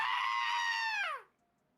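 A goat lets out one long, human-like scream lasting about a second before it bends downward and cuts off into silence, loud and close with no talking.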